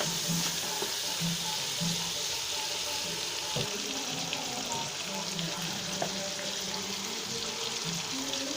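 Chicken frying with garlic, ginger and garam masala, a continuous sizzle with soft stirring noises and a faint murmur of talk underneath.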